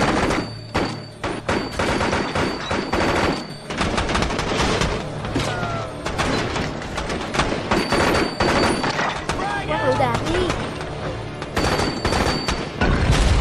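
Rapid bursts of gunfire crack and thump continuously, layered with shouting voices and heavy booms throughout a chaotic firefight in an American action film.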